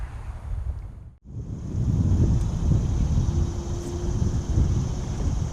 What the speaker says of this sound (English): We went from no wind to like a steady 5-10 mile an hour wind.